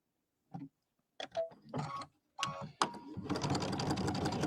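A sewing machine stitches a quarter-inch seam on a quilted Easter bunny bench piece, starting after a few soft clicks and handling sounds, then running steadily and close.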